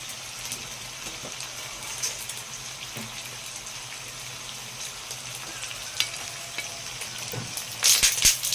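Meat sizzles and fries steadily in a hot pan just after being flipped, a continuous crackling hiss with a few sharper pops and a louder burst of spattering near the end, close by.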